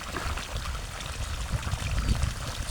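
Water gushes steadily from a pipe outlet of a farm water system that runs without electricity, fed at fair pressure from a single panel: a continuous, fairly strong rushing pour that stays close and unbroken throughout.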